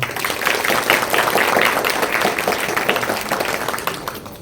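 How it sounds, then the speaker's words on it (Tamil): A crowd claps for a children's dance performance, a loud, continuous spatter of many hands that holds evenly throughout. "அப்ப அவங்க நடனம் சிறப்பா இருந்ததுன்னு ஒரு கைதட்டு பண்ணலாமா அவங்களுக்காக?"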